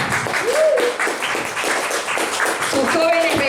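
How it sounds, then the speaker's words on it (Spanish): Church congregation applauding, steady clapping from a crowd heard throughout, mixed with voices and cheering. "le damos un aplauso al Señor"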